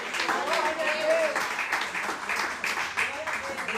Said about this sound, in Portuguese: Você pode aplaudir ao Senhor com o seu melhor nessa hora